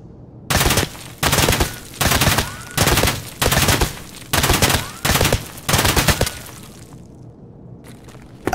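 A modded AKM rifle in Escape From Tarkov fires eight evenly spaced loud bursts of rapid automatic shots, each close and sharp, followed by a fading tail and a brief clatter.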